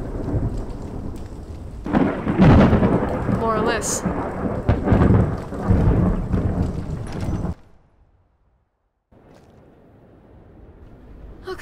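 Heavy rain and loud, rolling thunder rumble steadily and close, then the storm noise cuts away to a soft, faint hiss of rain.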